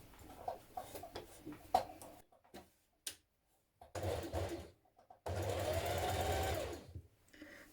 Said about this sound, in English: So we're top stitching it down so that it's nice and flat.